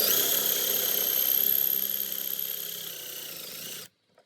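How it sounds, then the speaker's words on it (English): A steady high-pitched drill whines continuously as its bit bores into a circuit board, then cuts off abruptly into silence. "Don't want to get any of that board with my drill bit"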